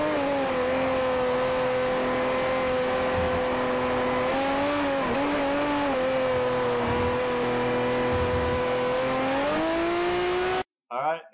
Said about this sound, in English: With a smooth exit in third gear, getting on the gas a bit, and following up with a downshift to second gear for the final turns.